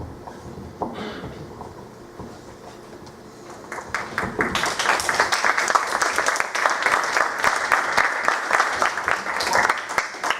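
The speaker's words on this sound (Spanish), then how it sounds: "Qué tímidos para aplaudir." An audience applauding during a church service, beginning as scattered claps and a few voices and then swelling after a few seconds into steady, loud clapping that continues to the end.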